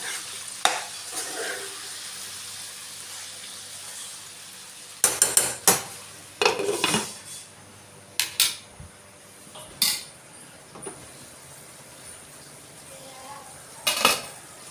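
A spoon stirs tomatoes in a sizzling pan for an ivy gourd curry. Scraping clatters come in bursts against the metal over a steady low frying hiss, with no voices.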